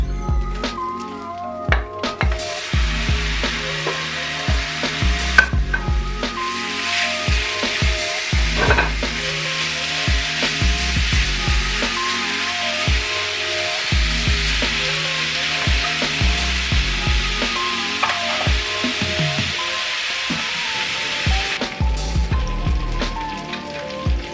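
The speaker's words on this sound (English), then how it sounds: "And now we will sear the beef." Beef for salpicao sears in a hot pan with a steady, loud sizzle and repeated stirring and scraping clatters throughout, with no talk.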